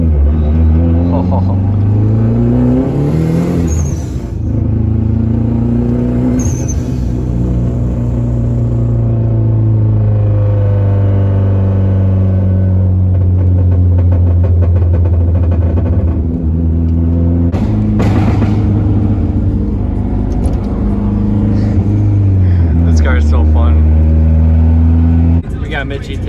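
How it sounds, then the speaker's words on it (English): A Turbo Cavalier car engine hums and rumbles continuously while driving, with shifting revs and gear changes, heard from inside the cabin as people talk over it. "Riding the Turbo Cavalier and going for a rip, you need gas."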